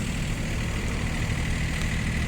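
A four-wheel-drive Iseki TU-245 mini tractor with a tiller and roof idles nearby, a steady low diesel rumble with an even, unbroken drone.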